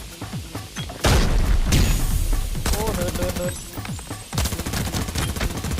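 Repeated grenade explosions and heavy gunfire from a video game, with booms landing every second or so over a dense, loud battle din.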